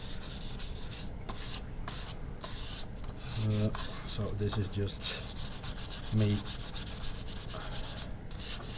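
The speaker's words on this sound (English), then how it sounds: "it needs a little bit of wet sanding before you are going to apply the end" Wet sanding of a high gloss wood finish with 600 grit sandpaper, a steady close rasping rub with rhythmic back-and-forth strokes throughout, while a person speaks briefly.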